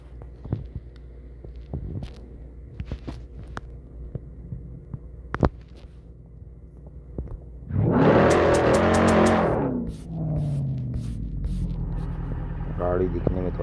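A Diamonter C 600 car in the Drive Zone Online driving game hums and throbs at a low steady idle, swelling briefly into a louder burst before settling into a softer drone, with someone talking over it.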